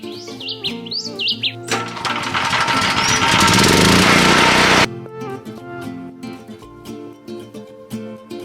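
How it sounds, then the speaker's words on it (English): A flap disc sands the grooved top of a wooden log in a loud, steady, rough roar lasting about three seconds, then cuts off abruptly, with background music and bird-like chirps before and after. "I'm gonna be using it today to sand the top part of this wooden log"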